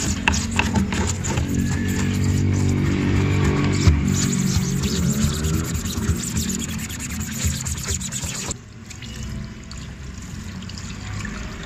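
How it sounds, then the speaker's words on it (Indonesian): Steady scrubbing and rubbing against a screen-printing screen to remove ink stains, with water splashing and running throughout; the rough brushing noise eases off near the end. "siram, kita gosok lagi"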